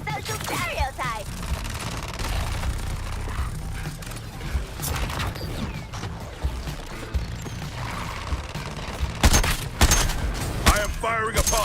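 Gunfire in the video game Suicide Squad Kill the Justice League, rapid crackling bursts and mechanical clatter amid a busy battle mix, with voices talking over it and heavier shots near the end.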